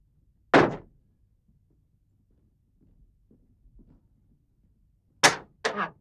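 A door slammed shut in a home during a heated domestic quarrel: one sharp, loud bang, a quiet stretch, then two more quick hard knocks close together.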